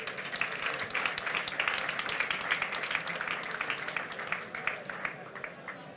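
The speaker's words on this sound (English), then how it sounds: "A round of applause." An audience at a talk at Impact/Week 2024 gives dense, sustained applause, with many hands clapping steadily for several seconds before it starts to thin out.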